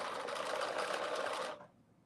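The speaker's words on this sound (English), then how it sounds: "I folded it under on the left and right side, and I am stitching it" A sewing machine stitches the folded-under edges of a bodice in one quiet, continuous burst of about a second and a half, then cuts off.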